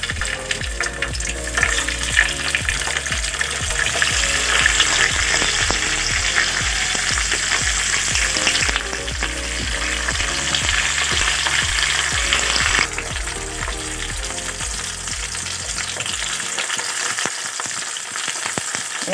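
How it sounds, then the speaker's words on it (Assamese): Fritters made with Puroi shak (Malabar spinach) fry in hot oil, a loud, continuous close sizzle and crackle with light bubbling and no voices. "তেলখিনি গৰম হোৱাৰ পিছত মই এইকেইটা এটা এটা কৰি ইয়াতে বহাই দিছোঁ।"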